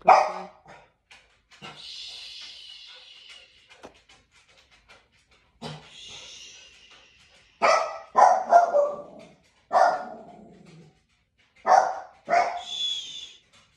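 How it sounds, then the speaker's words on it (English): A dog barks outdoors near a parked truck, delivering several loud, separate barks and yips in bursts with short quiet gaps between them, plus some panting in the pauses. "There was a dog. I think it got by our truck."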